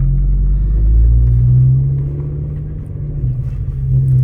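Deep rumble from an Audi RS3 engine and exhaust with the valves open, heard from inside the car on a test drive, a low steady drone that swells and dips slightly as it pulls along.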